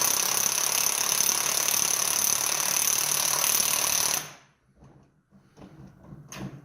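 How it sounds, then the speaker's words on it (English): A Harbor Freight impact wrench hammers loudly and continuously up close while working on a Subaru Baja suspension lift, then cuts off abruptly, leaving a few soft clanks and handling noises. "that impact wrench comes from Harbor Freight"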